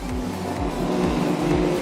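Race cars at a speedway roar along the back straight, engines droning loud and steady with repeated passing pitch sweeps.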